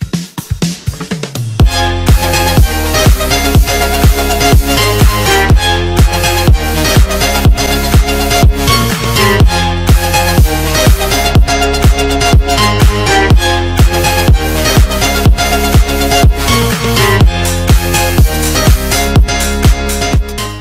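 Final mix of a house drop, a loud, dense electronic track with a pounding four-on-the-floor kick, thick bass and bright synths, playing continuously after a brief quieter intro, with no talking.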